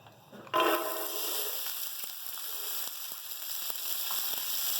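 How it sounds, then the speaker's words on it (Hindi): Mixed vegetables for a pulao dropped into oil in a pan, a quiet start that suddenly bursts into loud hissing sizzle, then a steady crackling fry with light ticks and pops. "तो बाकी जो सब्ज़ी हैं वो भी हम 2-2 मिनट फ्राई कर लेंगे"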